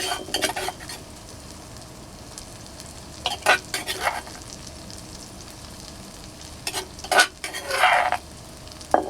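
Pounded chili and garlic stir-fry in a pan over low heat, a steady quiet sizzle broken by several bursts of metal spatula scraping and clanking against the pan.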